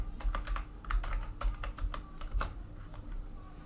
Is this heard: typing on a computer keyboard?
yes